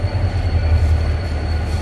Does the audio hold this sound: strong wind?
no